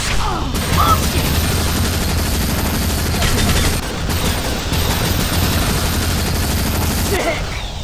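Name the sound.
heavy gunfire in Unreal Tournament 3 video game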